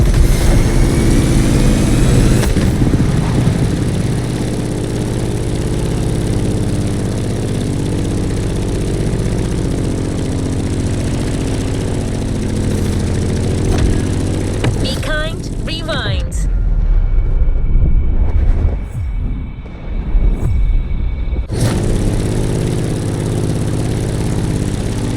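A steady, droning propeller-plane engine in The Crew Motorfest video game hums loudly and continuously, briefly cutting out near the end before resuming, with voices and game effects over it.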